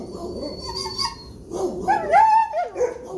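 Dog whining and yipping in shelter surroundings, high-pitched whimpers rising into a few sharp close barks, eager and insistent, with faint background noise.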